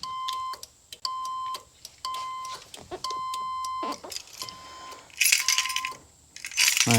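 A 1978 Corvette's alarm chirps in a run of sharp, evenly spaced electronic beeps, several in a row, followed by a jangle of keys and metallic clicks close by.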